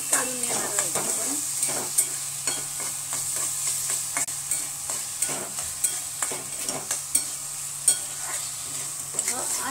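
A spoon stirs jaggery into cooked pumpkin curry in a pan, with regular scraping and tapping strokes over a low, steady simmering hiss.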